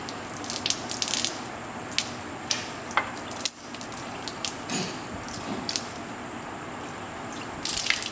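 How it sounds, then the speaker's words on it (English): Water pours and trickles out of a flooded engine intake during an engine teardown, a close run of splashes, drips and small gushes with a few sharper metallic clinks. "It's all full of water in there, and Noah's just pulling it out here."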